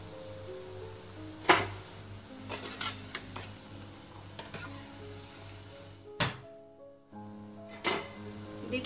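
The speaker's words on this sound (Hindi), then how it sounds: "सारी भज्जी छोड़ दी है, अब इसे एकदम स्लो फ्लेम पे 5 मिनट पका लेंगे" Coriander bhaji fritters fry in oil on a slow flame, giving a soft, continuous sizzle with a few clinks and scrapes of a utensil turning them and a brief clatter near the end, no voices.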